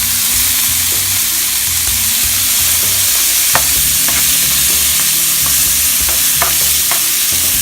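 A spoon stirs vegan Alfredo sauce with vegan butter in a hot pan, a loud continuous sizzle with scraping and scattered clicks of the utensil against the pan, no talking.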